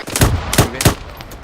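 Gunfire in the military game ArmA 3 during a squad training exercise: three sharp, booming shots spaced evenly about a third of a second apart, close and loud.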